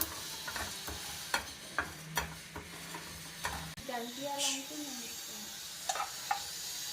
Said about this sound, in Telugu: కొంచెం బ్రౌనిష్ కలర్ వచ్చేదాకా వేయించాలి